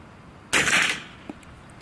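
A suppressed .45 ACP pistol fires a single shot: one sharp, fairly loud pop with a short hissing tail, followed by a faint click.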